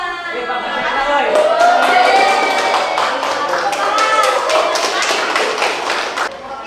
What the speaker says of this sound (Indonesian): Ya, tepuk tangan Mbak Aini.